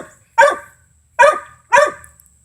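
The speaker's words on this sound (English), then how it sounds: "And Bruno won't stop barking" A puppy dog barks three times in sharp, evenly spaced bursts, loud and close, with near silence between barks during a storm indoors.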